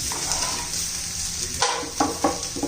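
Ginger sizzling in hot oil in a pan while rajma masala is cooked, a steady close frying hiss broken by a few sharp stirring scrapes near the end.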